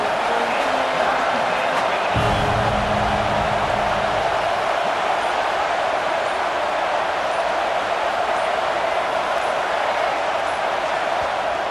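Stadium crowd in the College Football 26 video game, with Indiana near the red zone, sends up a loud, steady roar that fills the whole stretch, with a brief low rumble early on.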